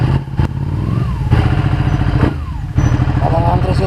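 A Ducati Panigale 1199S motorcycle engine rumbles loudly nearby in a fast-food drive-thru, idling with a steady throb and occasional revs, with voices talking over it.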